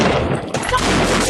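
Police gunfire during a shield-covered standoff, a loud, brief burst of blasts heard up close in a harsh, noisy scene.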